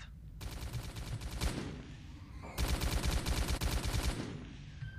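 Bursts of automatic gunfire in S.T.A.L.K.E.R. Call of Pripyat, two long rattling volleys separated by a brief lull, loud and close with no talk.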